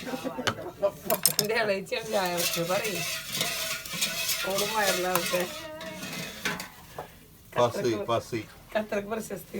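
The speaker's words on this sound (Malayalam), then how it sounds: "മൂടി വെച്ചിരുന്നു ചായ എടുക്കുന്ന ഒക്കെയാണ് ഈ കേൾക്കുന്നത്" Lids and clay pots and pans knock and clatter in a home kitchen while tea is made, with sharp metallic rattles and stirring scrapes mixed in among people talking close by.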